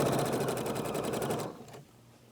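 Sewing machine stitching fabric along a zipper, a fast close mechanical whir with rapid even ticking that runs steadily, then stops abruptly near the end.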